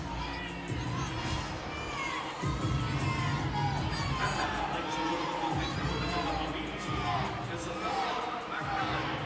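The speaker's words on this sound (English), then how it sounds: "you hear the crowd is chanting a 10" A gymnastics arena crowd at a Kentucky at LSU meet chants a rhythmic, sustained cheer for a perfect ten, loud and continuous with shouting children and chatter throughout, and voices heard within the din.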